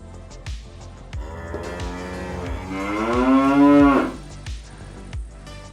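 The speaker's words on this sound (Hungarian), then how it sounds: "Hát lent továbbra is kolompolnak a tehenek." Cows on an Alpine pasture below a lookout on the Rax give one long, loud, drawn-out moo that rises and fades, with faint clanks of cowbells around it.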